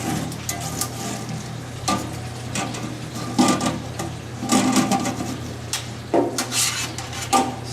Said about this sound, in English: We're going to use the L brush to go around the coils.